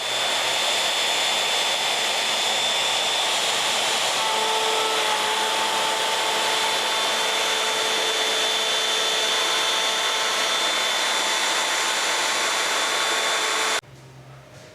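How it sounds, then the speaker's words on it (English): A router fitted with a guide bushing spins at high pitch as its bit makes a 3/8-inch-deep cut in wood, a steady loud whine that stops abruptly near the end. "the reason why we are doing that is to balance the router bit on both sides as it's cutting"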